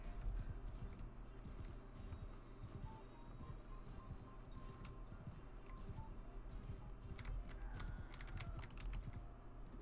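Rapid, steady hoofbeats of a galloping horse in the medieval battle game Mount & Blade II: Bannerlord, a continuous drumming clatter under a low rumble of game ambience, with no talk.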